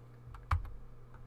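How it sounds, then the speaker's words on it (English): A few quick keystrokes on a computer keyboard, typing a short word into a web design program: close, light clicks clustered in a brief burst with one sharper tap, no voices. "I'm just going to type in Google."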